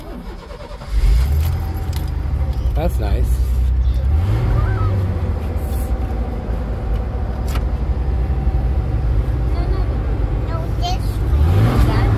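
A Ford pickup truck engine idling steadily at an auction lot, a low continuous rumble with occasional revving rises, heard close, while someone speaks briefly over it.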